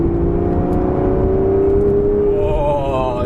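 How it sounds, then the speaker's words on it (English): An Aston Martin Vanquish accelerating, its engine note climbing steadily in pitch with a smooth, loud exhaust drone heard from inside the car, over road rumble. "you get the exhaust note, and this car comes to life"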